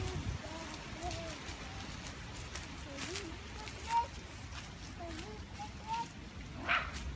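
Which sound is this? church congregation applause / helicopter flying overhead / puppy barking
puppy barking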